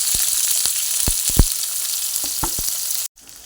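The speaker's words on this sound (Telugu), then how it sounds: "ఉల్లిపాయ వేగుతుందండి" Onions sizzling in hot oil with ginger, green chillies and curry leaves, a steady close crackle with a few spoon stirs and clinks, ending in a brief cut.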